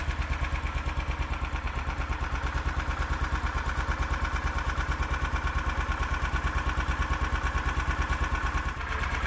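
A Predator 420 small engine swapped into a Hisun Strike 4x4 UTV, with modified camshaft and exhaust, idles steadily nearby, a rapid, even low putter that holds constant throughout before cutting slightly at the very end.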